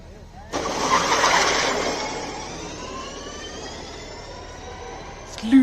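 Johan Kristoffersen's Subaru WRX electric rally car launches up the Simola hillclimb, a sudden sharp whine and rush that surges loud, then trails off into a fading high electric tone as it pulls away, with a commentator speaking over it.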